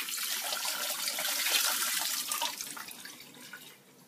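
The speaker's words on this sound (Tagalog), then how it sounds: "banlawan mo na lang sa tubig. Running water lang yan." Water streams steadily from a tap over small threaded parts being rinsed, close and continuous for several seconds before thinning out toward the end, with no talking.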